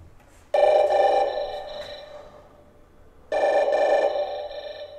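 Emergency call button in a new apartment building sounding a ringing tone twice, each ring a loud, steady electronic trill lasting about a second and a half, separated by a quieter pause.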